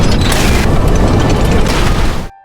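A bomb explosion in a Resident Evil game: a loud, sustained explosive roar with dense rumbling that rolls on for about two seconds before cutting off abruptly.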